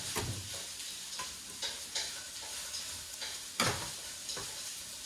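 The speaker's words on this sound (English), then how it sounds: "I don't mind the noise in the back, just the stove." Food sizzles and fries on a stove in the background with a steady hiss, punctuated by repeated sharp clacks and scraping sounds close by.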